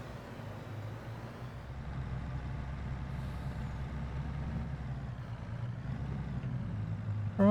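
A truck pulling a trailer rolls into a ranch in Farming Simulator 22, its engine a steady low drone throughout with a brief hiss near the end like an air brake, no talk over it.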